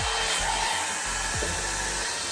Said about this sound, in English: So I got this blow dryer from Beauty Mart.